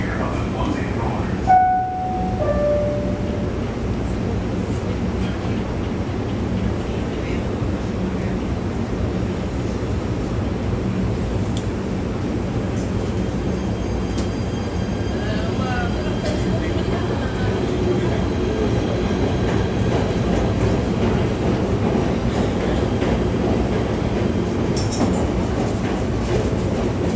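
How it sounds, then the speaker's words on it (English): A New York train ride toward Exchange Place, a steady loud rumble and rattle of the railcar running throughout, with a brief squeal and chime near the start and occasional clicks along the track. "On the train, we're going to take this train here to Exchange Place."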